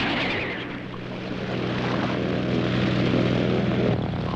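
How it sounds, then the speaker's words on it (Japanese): A propeller airplane flying overhead in an animated dinosaur adventure cartoon, with a steady, loud engine drone that swells slightly and holds for several seconds without speech. "飛行機ですね。"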